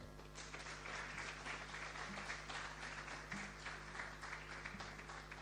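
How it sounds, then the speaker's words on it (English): An audience at a diaspora summit media launch applauds a ministry official, sustained crisp clapping throughout with a steady low hum beneath, no voices over it. "Ladies and gentlemen, a round of applause for Madam Mayfair Adjumako."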